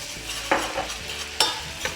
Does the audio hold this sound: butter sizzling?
yes